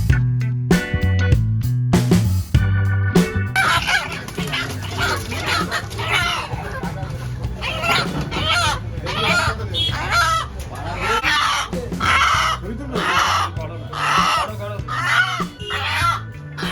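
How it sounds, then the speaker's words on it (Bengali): Desi country chickens cluck and a rooster crows at a busy Sunday morning poultry shop in a market, with loud overlapping fowl calls throughout and voices in the background. "আমি এখন পৌঁছে গেছি মুরগির দোকানে। এখান থেকে আমি একটা দেশি মোরগ কিনবো"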